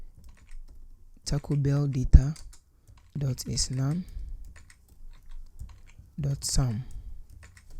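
Code is typed on a computer keyboard in quick bursts of close clicking keystrokes, mixed in with a person speaking.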